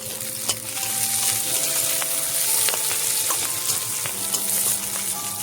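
Chopped spring onion greens frying in a pan with prawns and potatoes, a loud continuous sizzle with scattered clicks and scrapes of stirring close by.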